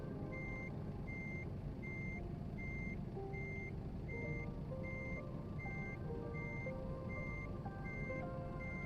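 An American Truck Simulator truck reverses, its backup alarm giving a steady series of evenly spaced beeps over a constant low engine rumble.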